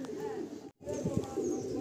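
Lal sira Andhra pigeons cooing in a loft, soft low throaty coos repeating close by with a brief gap partway through and faint voices in the background.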